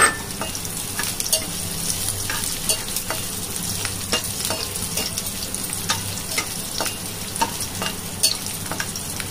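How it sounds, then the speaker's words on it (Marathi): Chopped garlic with cumin and mustard seeds frying in a pan for a wild leafy vegetable dish, a steady close sizzle with scattered crackles and stirring scrapes, no talk. "3-4 पाकळ्या लसूण बारीक चिरून घेतला की तो व्यवस्थित परतला जातो"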